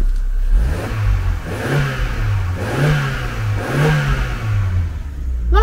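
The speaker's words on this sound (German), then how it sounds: "Mal ein bisschen Gas geben." Car engine revving in repeated pulses as the accelerator is pressed, several rising and falling surges close by, loud and steady with no talking.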